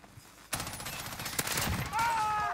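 Video game gunfire erupts suddenly and keeps going as a loud, dense fusillade of rapid shots, with a voice in the mix near the end.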